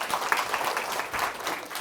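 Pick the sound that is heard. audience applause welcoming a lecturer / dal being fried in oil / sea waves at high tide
audience applause welcoming a lecturer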